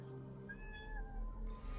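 A pet cat gives one drawn-out, wavering meow, up close and fairly soft, over a low background hum.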